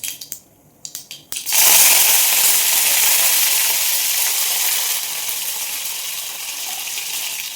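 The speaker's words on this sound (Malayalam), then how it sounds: "അതിലേക്ക് കുറച്ച് കറിവേപ്പില ഇട്ട് കൊടുക്കാം" Curry leaves go into hot oil after popping mustard seeds while squid thoran is being made. A few sharp crackles come first, then a sudden loud sizzle that stays steady and slowly eases off.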